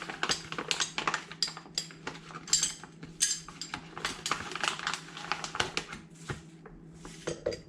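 A teaspoon scoops organic matcha powder, giving a quiet run of close, light metallic clinks and scrapes against a container, with small irregular ticks spread across the stretch and no voices.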